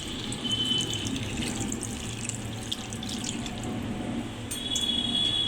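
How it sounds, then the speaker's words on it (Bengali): Water pours steadily into a pan of pav bhaji being cooked on a stove, a close, continuous splashing stream with a faint metallic ring. "এবার দিয়ে দেবো জল।"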